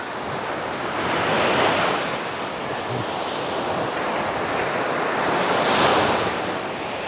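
Aegean Sea surf rolls onto Davutlar beach in Turkey in broad, steady washes, swelling twice as waves break and recede, with light wind buffeting the microphone.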